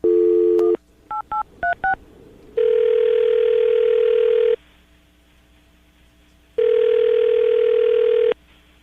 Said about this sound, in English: we're about to dial the phone number right now, get him on the phone